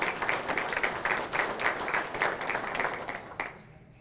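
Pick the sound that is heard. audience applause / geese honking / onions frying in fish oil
audience applause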